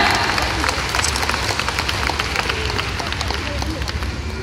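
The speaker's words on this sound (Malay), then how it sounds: "Berikan tepukan paling gemuruh untuk diri anda." A seminar audience at a YES business program applauds in a steady, dense wash of clapping, with a murmur of voices mixed in throughout.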